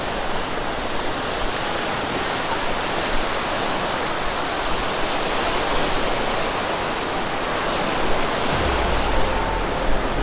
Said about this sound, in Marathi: लाटा पण आता जरा मोठ्या मोठ्या येत लागलेत.